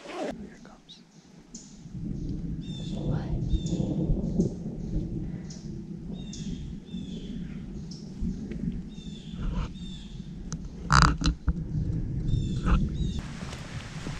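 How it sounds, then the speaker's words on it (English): Thunder rolls in a low, sustained rumble with rain over a trail near Big Rock Falls in a mountain forest, a sharper crack near the end, and quiet voices talking underneath. "A thunderstorm above us."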